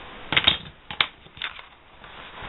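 Card stock for a vintage greeting card is cut along a scored line, giving a few crisp, close snips and clicks in a quick cluster followed by softer scraping.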